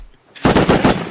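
Light machine gun firing in a video game: a loud, close burst of rapid shots that starts abruptly and runs for most of a second before trailing off.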